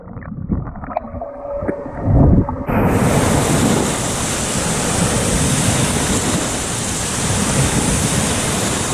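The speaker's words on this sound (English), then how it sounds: "Oh, these waves are nice." Wave pool at Volcano Bay water park in Universal Orlando: after a few seconds of quieter splashing, a loud broad surge of churning water rolls in and keeps rushing steadily.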